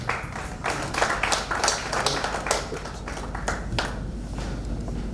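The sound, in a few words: applause for a prize winner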